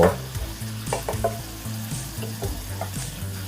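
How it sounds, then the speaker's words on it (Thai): Pork stir-fried with roasted chili paste in a hot pan gives a close, steady sizzle broken by repeated scraping stir strokes, with no talking. "ผัดคลุกเคล้าให้เข้ากันเลยครับ"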